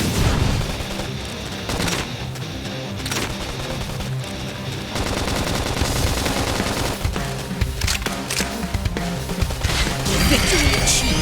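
Combat in Xenoblade Chronicles X: Definitive Edition on Nintendo Switch, with a grenade among dense, continuous bursts of rapid gunfire, crashes and impacts sustained loudly throughout, layered with battle music and effects.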